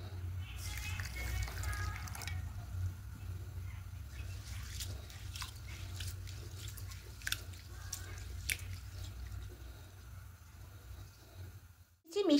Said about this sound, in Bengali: এবার চালটা এই বোলের মধ্যে নিয়ে নেব, নিয়ে একটু ভালো করে ধুয়ে নেব।